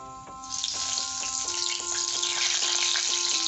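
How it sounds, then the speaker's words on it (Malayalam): Strands of Kerala spicy mixture dough frying in hot oil, a loud close sizzle that builds and holds steady, with faint tonal hums running underneath. "ഇനി ഇത് നമുക്ക് എണ്ണയിലിട്ട് ഫ്രൈ ചെയ്യാം."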